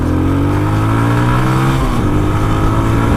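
A 2015 BS2 Apache 160 motorcycle roars loud and close, its engine note rising and shifting with throttle in a steady, unbroken rumble.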